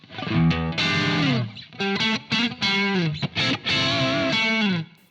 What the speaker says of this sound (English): I think this is a great sounding overdrive pedal.